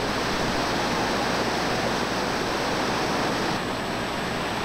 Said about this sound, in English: The Keenies are a series of 3 very challenging rapids.